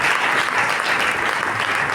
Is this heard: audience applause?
yes